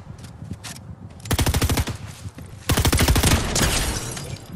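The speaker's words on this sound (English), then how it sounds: "he's shooting through the window" Rapid automatic gunfire in the video game Fortnite, two loud sustained bursts of fast repeated shots with quieter scattered shots between them.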